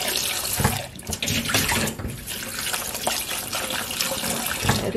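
Dried wood ear and shiitake mushrooms rinsed under running tap water in a kitchen, a close, steady splashing stream with irregular bursts of sloshing and handling.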